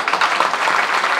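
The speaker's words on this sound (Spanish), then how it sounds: "con ese aplauso les doy la bienvenida a la gustada sección Las Aventuras de Peña Nieto" A studio audience applauds at a comedy news show, a dense burst of steady clapping with no voices over it.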